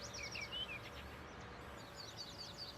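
Faint, distant birds chirp and tweet in scattered short calls over a soft ambient bed in the Farming Simulator 19 video game.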